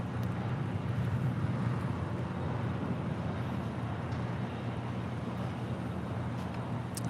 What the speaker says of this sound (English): All right, the American Dreamliner now rolling down at 25 right.